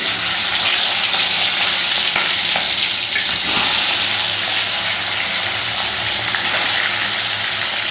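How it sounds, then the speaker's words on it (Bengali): Fish heads frying in hot oil in a home kitchen pan, a steady loud sizzle with bubbling and crackle running throughout, occasional stirring and spattering bursts, no voices. "তেল গরম হয়ে গেছে, মাছের মাথাগুলো ভেজে নেব।"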